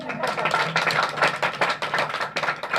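Audience clapping during a Jain religious sermon in Hindi, a dense burst of many hands at moderate level that swells and continues steadily, with a faint low hum underneath and no talk over it.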